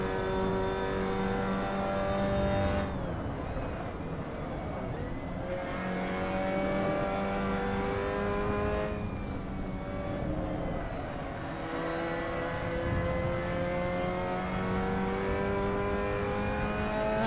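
Race car engine revving hard in the Assetto Corsa racing game, with harmonic engine tones climbing and dropping through gear changes, loud and continuous for the whole stretch with no talk.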